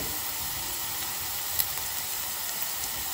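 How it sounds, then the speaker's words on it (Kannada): Spices with turmeric and red chilli powder frying in a pan for aloo methi, giving a steady, fairly quiet sizzle and hiss throughout with no talking. "ಸೊ ಇದನ್ನು ಚೆನ್ನಾಗಿ ಫ್ರೈ ಮಾಡ್ಕೊಳ್ಳಿ"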